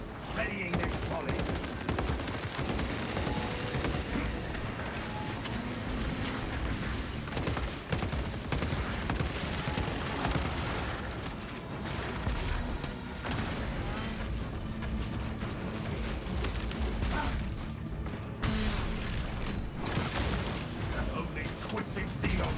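Dense, rapid gunfire volleys crackle and boom continuously in the Warhammer 40,000: Space Marine 2 video game, a busy layered battle din with voices mixed in underneath.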